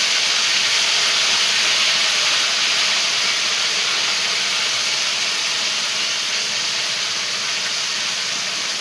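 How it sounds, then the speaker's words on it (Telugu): Curry frying in a pan, a loud continuous sizzling hiss that holds steady throughout with no break. "అందుకనే ఇలా ఫ్రై చేస్తున్నాను"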